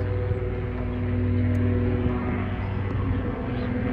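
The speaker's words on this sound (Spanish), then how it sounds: "Por ahí hay un helicóptero, ya van a ver." Distant aircraft engine hum, apparently a helicopter approaching near Maracanã stadium in Rio de Janeiro, a steady low drone holding across the clip with a brief loud bump at the very end.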